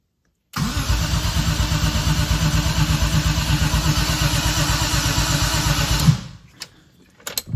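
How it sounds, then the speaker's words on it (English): A BMW E30 M3's S54 engine cranks and fires, then runs with a steady, loud pulsing rumble for several seconds before cutting off abruptly, leaving a few faint clicks. "we're just gonna turn it over and make sure that the engine maybe just turns over"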